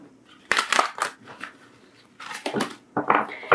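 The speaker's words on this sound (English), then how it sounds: "So I'll just shuffle these again" Tarot cards shuffled by hand in several quick crisp bursts, soft riffling and slapping close up, separated by short quiet pauses.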